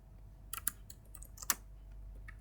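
Keystrokes on a computer keyboard as a short drawing command is entered: a handful of quick, light clicks in uneven bursts, close and fairly quiet, with a faint steady hum underneath and no talking.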